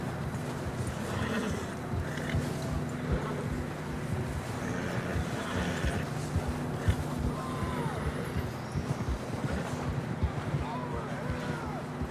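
Horse hooves clip-clop at a steady gallop with occasional whinnies in Red Dead Redemption 2, wind rushing over the microphone and voices calling out now and then.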